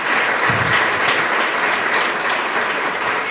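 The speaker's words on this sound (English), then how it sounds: "Please have another round of applause." An audience at a nursing cohort orientation applauds its provost, a steady, dense wash of many hands clapping that holds evenly at full volume from start to end with no voices over it.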